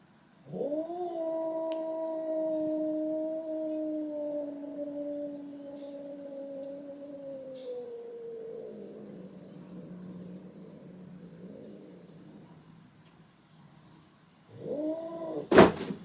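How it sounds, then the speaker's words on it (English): A cat named Simba gives a long, sustained growling wail that rises and falls like a siren, steady for several seconds, fading into a lower rumble, then swelling again briefly before a sharp knock at the end. "Simba is growling"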